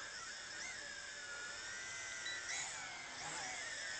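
A Tarantula X6 drone, a large budget quadcopter, flies with a steady high-pitched rotor whine that holds for the whole stretch, shifting pitch slightly as it maneuvers, with no voices.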